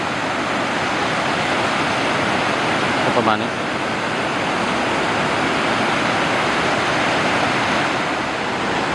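Mae Ya waterfall in Chiang Mai pours steadily as a dense, broadband roar of rushing water, loud and unbroken throughout, with a brief voice speaking over it.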